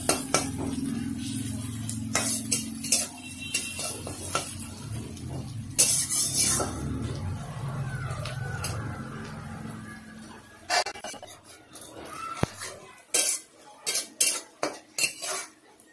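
Onion slowly frying for a Bengali fish curry, heard mostly as metal utensil scrapes and clinks against the pan in irregular bursts over a faint low sizzle, with no talking.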